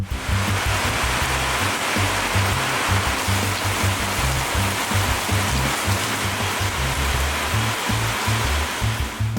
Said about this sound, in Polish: usłyszałam, że zaczyna padać deszcz i zebrało się na ogromną ulewę